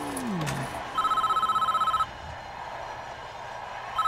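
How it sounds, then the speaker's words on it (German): A telephone rings in the prison-management game Prison Architect, one steady electronic ring of about a second standing out over a low ambient game soundtrack, then fading back to background hum. "Ach komm, Telefon."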